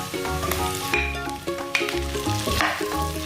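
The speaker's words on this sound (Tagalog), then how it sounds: "Igisa lang ito hanggang sa maging translucent ang sibuyas." Onions sautéing in a pan as the base for mussels cooked in Sprite, a loud steady sizzle with scraping stirs and metal clinks close up, no talking.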